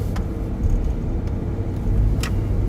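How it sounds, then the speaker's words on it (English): Road traffic rolls past a sheriff's patrol car on a busy street: a continuous low rumble of engines and tires, with a few brief passing swells. "Again, a lot of traffic."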